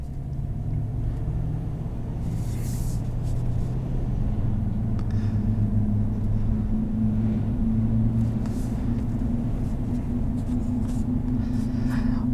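A 2020 Chevrolet Silverado 1500 Z71 with a 5.3 liter V8 and 10-speed automatic drives along, heard from inside as a steady low engine and road drone that hums evenly throughout without talk.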